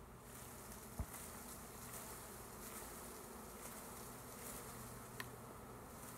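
A swarm of honeybees drones in a dense, continuous buzz as it is shaken into a hive box, with a couple of dull knocks from the shaking standing out against the steady hum.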